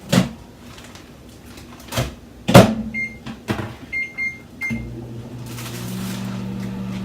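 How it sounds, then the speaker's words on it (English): A microwave door thuds shut, several keypad beeps sound, then the oven starts with a steady low hum that runs on to the end. "So I'm gonna just put this in the microwave."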